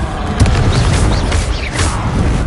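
A Confringo blasting spell goes off in a Harry Potter video game, a loud sustained booming rumble with a couple of heavier thumps through the whole stretch.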